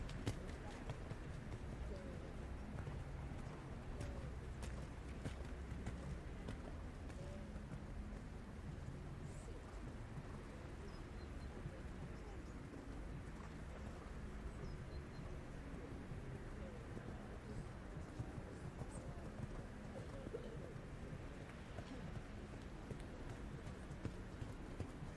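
A horse canters through a junior eventing dressage test at the FEI European Championships, its hoofbeats a faint, steady rhythmic thudding over a continuous low background murmur.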